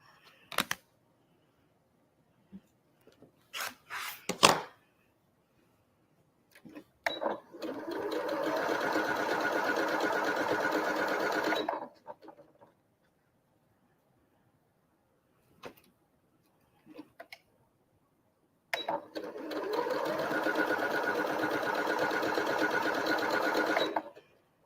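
A sewing machine stitching quilt block pieces for a mosaic star block, two loud close bursts of steady whirring stitching of about five seconds each, separated by quiet gaps with scattered clicks and handling noises.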